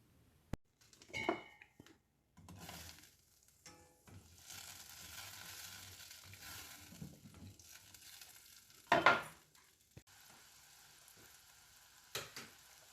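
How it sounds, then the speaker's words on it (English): Halved mushrooms frying in butter for lobster thermidor, a soft steady sizzle with a few stirring scrapes and pan knocks, fairly quiet and close. "Cut the mushrooms in half. Heat some butter and fry them for a few minutes."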